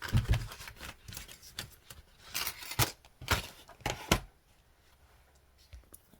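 Scissors snip through paper around a stamped circle, a close series of crisp irregular cuts and rustles that tapers off into quiet handling noise.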